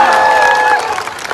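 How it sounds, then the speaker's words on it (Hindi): Crowd applause greets a teacher at a gathering of SSC coaching staff and students, a dense wash of clapping with cheering and tonal voices over it, loud at first and thinning slightly toward the end. "इससे भी जोरदार तालियां आपकी आदित्य रंजन सर के लिए होनी चाहिए"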